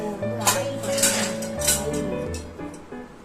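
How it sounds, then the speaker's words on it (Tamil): Oily pots and dishes clatter and clink as they are loaded into a Voltas Beko dishwasher, with close metallic knocks and scrapes throughout and a steady tonal hum in the background. "ஆயில் பாத்திரம் தான் போட்டிருக்கேன்."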